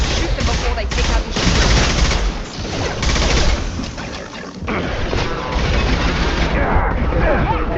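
Dense, sustained gunfire from a Mass Effect 2 firefight against hostile mechs, with overlapping shots, bursts and impacts running continuously and loudly throughout.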